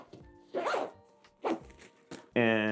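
A zipper runs along a Black Ember TKX sling bag packed full, a short quick zip closing it near the end, following spoken talk.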